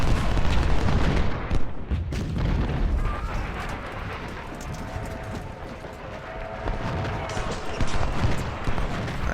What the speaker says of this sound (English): they're taking heavy cannon fire damage.